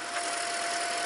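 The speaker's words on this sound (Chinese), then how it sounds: "引擎已经启动了，引擎已经启动" A Toyota hybrid car's engine idles just after starting, with the air conditioning running: a steady, even mechanical hum with a faint constant whine and no change in pace, close by and uninterrupted.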